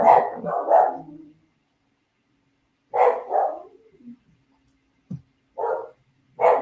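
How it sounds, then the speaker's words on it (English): A dog barks in short bursts of two or three, loud and close, with pauses between and a brief yip near the end. "now you might be hearing my dogs freak out"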